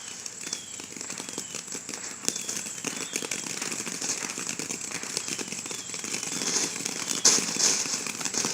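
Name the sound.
fireworks going off on the 4th of July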